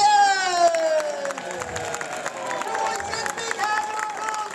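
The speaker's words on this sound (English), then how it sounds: "Big hand of applause, come on!" An audience at a community theatre show at the Sidmouth Festival cheers and whoops with scattered clapping, a lively mix of high voices and claps that stays steady throughout.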